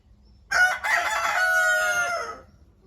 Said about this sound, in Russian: Это петух араукана.